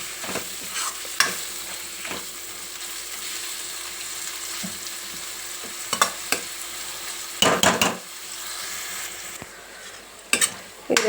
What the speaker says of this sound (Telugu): ఈ రొయ్యలు మంచిగా ఒక 2-3 నిమిషాలు నూనెలో వేగినాయి కదా